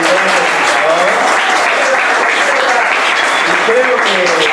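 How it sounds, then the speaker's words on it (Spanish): An audience applauds presenter Portela at the close of a talk, dense sustained clapping throughout with voices faintly audible underneath. "Un aplauso también para Portela, que ha sido un gran presentador."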